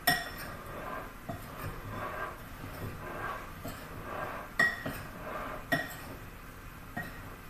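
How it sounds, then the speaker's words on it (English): A regular spoon stirs oatmeal raisin cookie ingredients in a bowl, giving soft scraping with a few sharper clinks of metal against the dish at irregular moments, and no voices. "these ingredients can be just gently stirred together with just a regular spoon"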